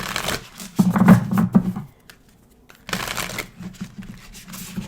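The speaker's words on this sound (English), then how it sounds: "Just shuffling this up, seeing what is it that you need to know right now." Tarot cards riffled and shuffled in two bursts separated by a short pause, crisp fluttering close to the listener.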